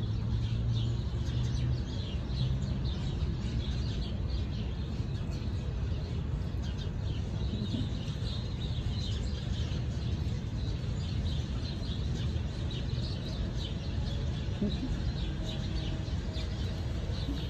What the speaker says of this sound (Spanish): Hey, más pajaritos.